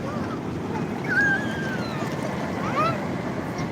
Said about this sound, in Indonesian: ombaknya besar tuh, ombak datang tuh